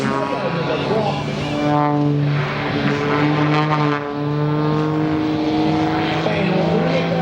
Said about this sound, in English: And watch these boys and girls flips the plane straight over the prop.